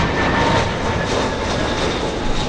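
A JetBlue jet airliner takes off at Los Angeles airport, its engines roaring loud and steady with a broad, rushing sound that holds throughout.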